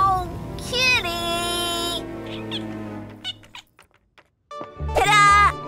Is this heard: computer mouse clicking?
no